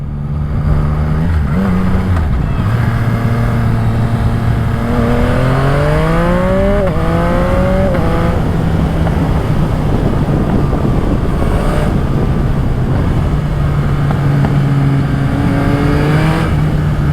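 A Yamaha MT-09 SP motorcycle with a full Spark aftermarket exhaust revs up and down repeatedly, its pitch sweeping high and falling back, with a throaty, constant roar and no talking.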